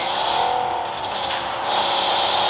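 Car engine in PUBG, a steady broadband drone with road and tyre noise throughout, loud and continuous with no voices.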